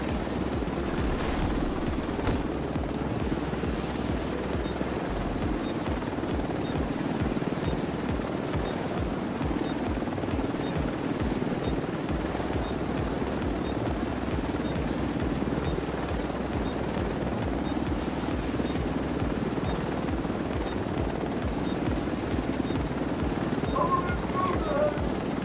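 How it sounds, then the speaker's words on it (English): Helicopter arriving in The Division 2: a steady rotor thrum with low chopping pulses and broadband wash, continuous throughout, moderately loud and growing slightly toward the end. "Chopper at your disposal."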